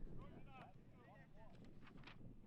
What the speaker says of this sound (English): And you can hear the wind behind me.